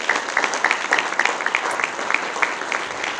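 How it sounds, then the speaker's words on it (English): A luncheon audience at Stonehill College applauds, a crisp, continuous patter of many hands clapping at moderate loudness throughout. "Please join me in a round of applause for the builders."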